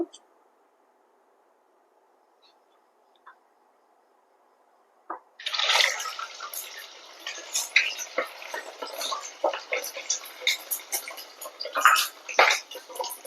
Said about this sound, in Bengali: তেল গরম হয়ে গেছে এবার আমি একে একে ভাজতে শুরু করবো